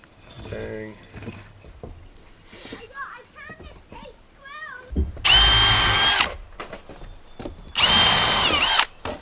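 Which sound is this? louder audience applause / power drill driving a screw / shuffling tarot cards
power drill driving a screw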